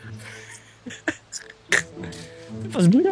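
A person imitates a deer's call in a forest during a 24-hour survival outing, producing a short, throaty, wavering vocal cry at the end after scattered knocks and brief talk.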